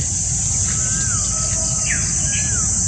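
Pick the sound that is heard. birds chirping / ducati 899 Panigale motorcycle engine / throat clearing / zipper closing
birds chirping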